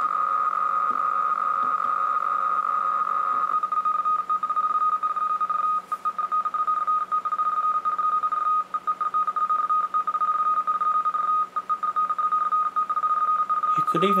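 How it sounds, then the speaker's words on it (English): Keysight EDU33212A waveform generator putting out modem tones slowed to 45 BPS, like radio teletype: a steady loud tone that shifts into rapid keyed warbling between two pitches, continuous and alone. "If we slow it down all the way to, say, 45 BPS, that will sound just like radio teletype."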